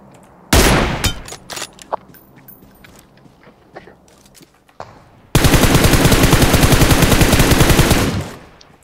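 Gunfire in PUBG Mobile: a loud opening shot, then scattered single shots and clicks, followed by a long sustained burst of automatic fire that cuts off near the end.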